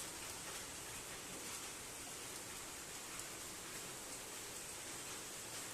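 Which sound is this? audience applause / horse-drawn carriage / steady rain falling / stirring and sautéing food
steady rain falling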